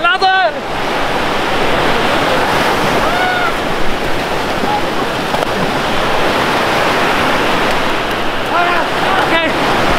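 Ocean waves roll in on a beach as a loud, continuous roar of surf and wind, with brief voices calling out over the noise.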